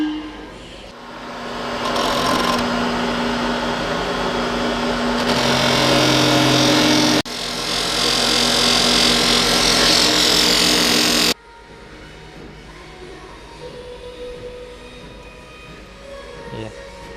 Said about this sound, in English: Just setting up the polishing wheel.